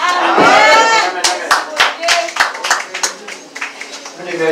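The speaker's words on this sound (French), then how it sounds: "On va applaudir plus" Audience at an evangelistic church service clapping in a quick, rhythmic series of sharp claps after a burst of voices, steady and fairly close throughout.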